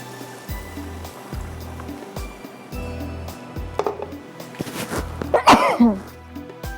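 One loud, close sneeze bursts out in a home kitchen during cooking, standing out sharply above faint background clatter and soft rhythmic thumps.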